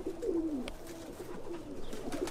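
Pigeons coo softly inside a pigeon loft in New Jersey, low rolling calls repeating over a faint background hum, with a few light rustles and no voices.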